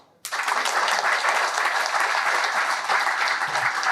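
A seated audience at a spiritual talk breaks into applause, sudden and then sustained, dense and loud clapping from many hands.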